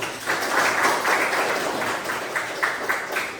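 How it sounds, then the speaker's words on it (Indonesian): Applause from a room of vocational school students during a class session in Tangerang Selatan, Indonesia, a brief burst of rhythmic group clapping, somewhat washed and roomy, steady for a few seconds. "tepuk tangan semuanya"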